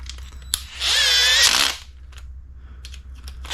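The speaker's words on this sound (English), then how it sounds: "Oh, we got to tighten our clutch up." A small power tool whirs for about a second, tightening the clutch on an HB Racing E819RS RC car, with a sharp click before it and light taps and handling clicks after, close and alone.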